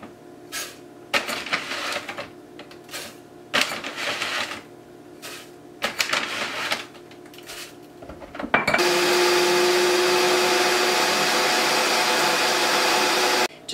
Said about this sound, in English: Recently, this new Vitamix, occasionally there's a piece I have to stir it and grind it again.